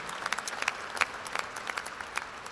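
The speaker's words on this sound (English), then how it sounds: "Let's give an ovation to an incredible chancellor" A graduation crowd applauds an ovation for a chancellor: sustained, fairly faint clapping with scattered sharp claps, steady through the whole stretch with no voices on top.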